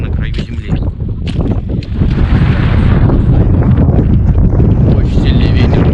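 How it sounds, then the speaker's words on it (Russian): Strong wind buffeting the microphone on an exposed rocky cape on the Rybachy Peninsula, loud, gusty and continuous, close and rumbling throughout, with a brief voice near the start. "Очень сильный ветер."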